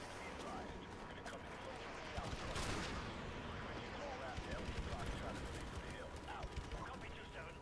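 Sustained game combat din of airstrike gunfire and explosions, a dense continuous roar with a heavier blast swelling around the middle and scattered sharp cracks throughout, with voices talking over it.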